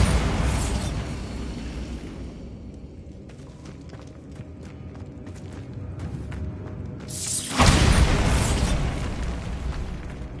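Bombarda blast spell from Hogwarts Legacy on PS5: a loud, deep explosive boom bursts out late, after several seconds of busy game ambience and clattering effects.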